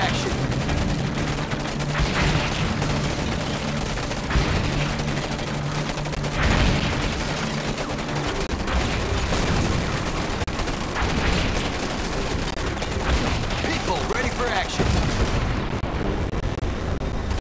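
Dense, continuous gunfire and explosions fill a battle in the real-time strategy game Command and Conquer 3: Tiberium Wars, with overlapping bursts, booms and crackling volleys that stay loud throughout, and brief unit voice lines mixed in.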